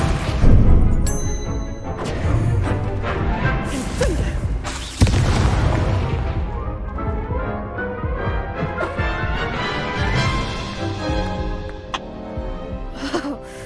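An Incendio fire spell cast in a Harry Potter video game bursts out with booming blasts and crackling impacts, several loud hits spread over a dense stretch of game noise and music.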